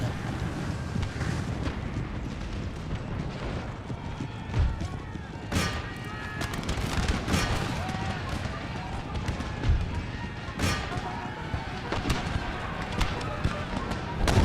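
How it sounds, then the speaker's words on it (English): Cannon fire in Empire: Total War, canister shot blasting from artillery on a line-battle field, sharp booms rising over a dense rumble of musketry and marching troops while someone talks throughout. "And time for canister shots."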